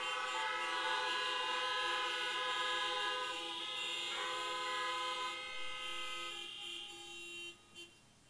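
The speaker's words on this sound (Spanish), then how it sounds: "Tocamos nuestras bocinas en señal de adoración." Many car horns blaring together in a long sustained chorus of overlapping tones as an act of worship during an outdoor Mass, loud at first and thinning toward the end with a last short toot.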